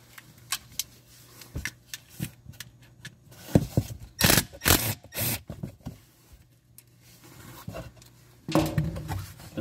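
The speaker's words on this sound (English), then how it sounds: "remove the 10mm bolt that holds the sensor in" A ratchet works a 10mm bolt that holds a speed sensor on a Mercedes B250e drive unit: irregular bursts of close, sharp clicks and metallic scrapes, some quick runs and some isolated, with no talking.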